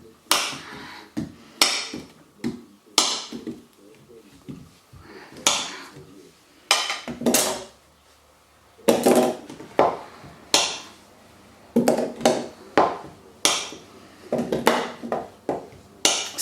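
Knife chopping through a large block of melt and pour soap, giving a run of sharp, close knocks and thuds in irregular bursts, some quick and clustered, with short pauses between, loud and clear with no talk.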